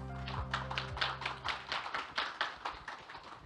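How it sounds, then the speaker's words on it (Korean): An audience at a Korean legal forum claps, a thin, uneven patter of hands that comes in distinct bursts of a few people rather than a full ovation, with a low hum underneath. "여러분 힘찬 박수 부탁드립니다."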